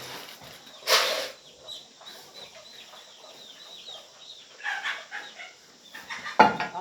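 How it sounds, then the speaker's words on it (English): Chickens clucking in short bursts at a moderate distance, with one louder squawk near the start and another near the end over a quiet outdoor background. "I got the chickens."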